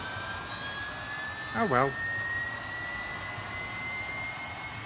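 An electric Lotus in the racing game Real Racing 3 gives off a steady high-pitched whine that runs evenly throughout, while someone briefly speaks over it partway through.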